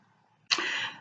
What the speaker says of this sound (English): I was just about to have a coughing fit there.